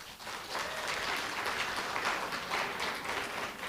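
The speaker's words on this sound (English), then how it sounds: "I can't complain that you applaud for the first person." An audience at a literature prize dinner ceremony claps for the laureate, a soft, even wash of applause at moderate distance, heard alone without talk.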